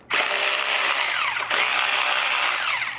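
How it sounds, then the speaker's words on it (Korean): A power tool whirs in two sustained bursts, briefly pausing between them, loosening the grip bar bolts on a Royal Enfield Bear 650 motorcycle, close and loud with no talk. "작업 속도를 좀 빨리 하기 위해서 전동 공구를 쓰지만"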